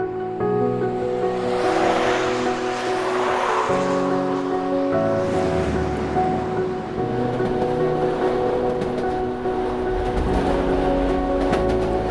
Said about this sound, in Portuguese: essa aqui é a estação de Ramos, exatamente onde eu pegava o trem todos os dias